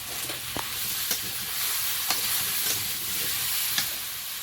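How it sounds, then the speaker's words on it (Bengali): Fish frying in a kadai with salt and turmeric, a steady close sizzle and hiss with occasional sharp spatters and stirring knocks throughout, no talking. "লবণ হলুদ দিয়ে একটু প্রথমে ভাজবো"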